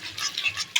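Potatoes for Kashmiri aloo dum, seasoned with salt and sugar, are stirred and sautéed in a pan. A few quick scraping strokes sit over a soft sizzle, close and fairly quiet.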